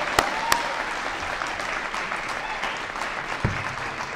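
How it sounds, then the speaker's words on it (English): A crowd claps at a school speech night, continuous dense applause lasting about four seconds with a few sharper close claps and whoops poking out of the wash. "One more round of applause."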